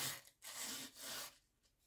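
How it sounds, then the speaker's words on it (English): A metal file rasps across a gunmaker's tool resting on the ground, giving three close, steady scraping strokes separated by short pauses. "filing"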